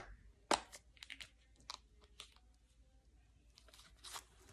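Piece of chewing gum being unwrapped, quiet crinkling and tearing of the wrapper with one sharp rip followed by scattered soft rustles close by.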